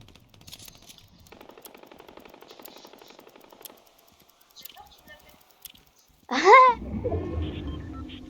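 Gunfire from weapons in the video game Fortnite rattles off as a rapid automatic burst, then gives way to other game effects and a short vocal sound, all at moderate loudness.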